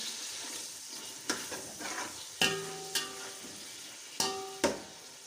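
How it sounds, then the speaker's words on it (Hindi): Chopped tomatoes and green chillies sizzle steadily in hot oil, with a few sharp clanks of a spoon scraping and stirring the pan, close and alone without talk. "ऑयल में जल्दी से हम डाल देते हैं टोमेटोस और हरी मिर्चों को"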